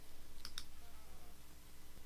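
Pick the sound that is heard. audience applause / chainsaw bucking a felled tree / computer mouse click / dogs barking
computer mouse click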